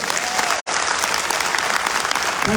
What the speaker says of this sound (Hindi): वाली जबरदस्त तालियां हो जाए।